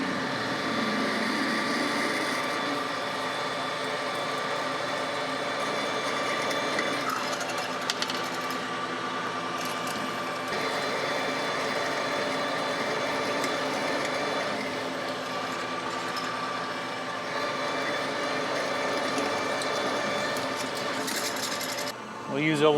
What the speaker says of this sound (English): Come in with a pilot drill.